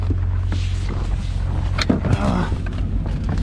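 A vehicle engine idles steadily in cold, snowy winter weather, a continuous low rumble that fills the whole clip, with brief clicks and knocks over it.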